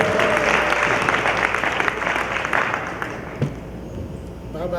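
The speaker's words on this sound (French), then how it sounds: "Est-ce qu'on peut applaudir pour Maman Pélagie," Wedding guests clap together in a reception hall, a broad continuous patter that stays strong, then gradually thins and fades toward the end.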